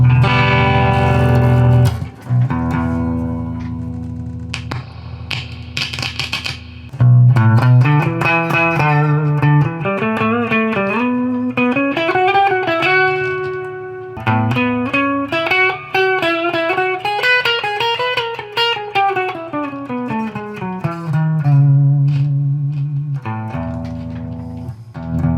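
An electric guitar through a modified tube amp with reverb on plays melodic phrases with a distorted, reverberant tone, notes ringing and sliding, with no voices.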